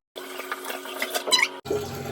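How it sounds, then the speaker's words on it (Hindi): Water pours into a bottle from a tap, a steady rushing stream whose pitch rises as it fills, cut off briefly before a lower gush resumes. "सो लेट्स भरो सब पानी."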